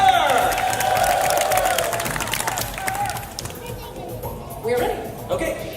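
Audience at a Fear Factor Live stunt show at Universal Studios Orlando cheers and shouts for a contestant, a loud crowd roar in the first seconds that thins into scattered voices and calls.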